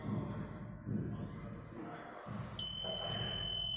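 A quiz buzzer from a six-player buzzer system sounds as a steady electronic tone that starts partway through and holds to the end, over a low background hum.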